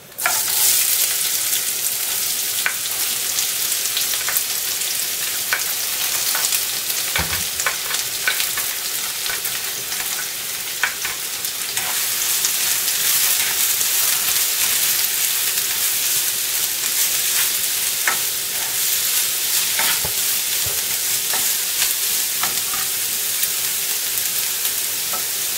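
Onion fries in hot oil with spluttering mustard seeds in a pan for mushroom mutter masala, a dense, loud, continuous sizzle with faint crackles and a few stirring scrapes, and no talk.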